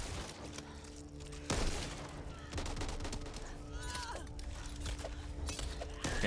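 Gunfire in the zombie shooter Back 4 Blood: sharp broadband shots and bursts repeat through a busy co-op game mix, with a strong blast near the start and steady firing under background game sounds.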